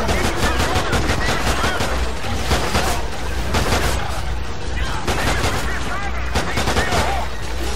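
Rapid automatic gunfire in the video game Call of Duty Ghosts Extinction, shooting at scorpions. Dense, continuous bursts fill the whole stretch, loud and close, with voices talking over it.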